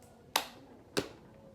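Two sharp, isolated hand claps or snaps in a quiet room during a group clapping game, spaced about half a second apart, close and fairly soft with nothing else around them.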